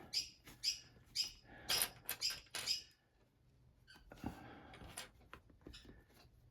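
Pet birds chirp indoors in a sewing room, giving a quick series of sharp, high chirps over about three seconds before fading to quieter room noise.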